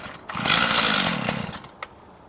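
A cold chainsaw with its choke set is pull-started, giving a loud close ripping burst of over a second that fades, followed by a single sharp knock.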